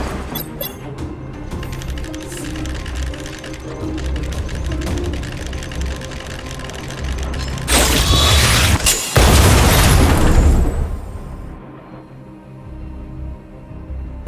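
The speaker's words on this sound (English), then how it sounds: "We wiped them all out in a single explosion!" Explosions in a video game fill the stretch with dense, loud blasts and rumbling, peaking in a big burst partway through before the sound cuts off abruptly and tails away, with no voices.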